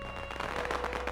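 Firecrackers exploding in a dense, continuous barrage of crackling bursts, loud and close, with no clear gap between the pops.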